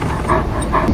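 A dog in a tense thriller film scene makes a short, loud, growly bark-like burst as it lunges to attack, close and dense with no voices.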